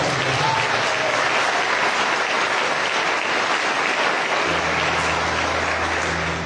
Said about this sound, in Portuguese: Quem quer nisso, dá uma salva de palmas.